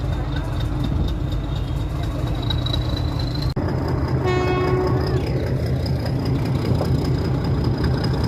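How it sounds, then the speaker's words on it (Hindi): A metre gauge train hauled by a YDM-4 diesel locomotive pulls away, a steady low engine rumble and rolling rail noise running throughout, with a brief sharp knock partway and a short tonal horn-like toot, a broad gauge WAG-5 locomotive moving alongside. "अपने निर्धारित समय पर हमारी ट्रेन यहाँ से डिपार्ट कर चुकी है"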